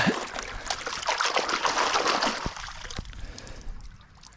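Water splashing and trickling over a rough-surfaced geode as it is rinsed, a close, uneven spatter that runs strongly for a few seconds and then thins to scattered drips and taps.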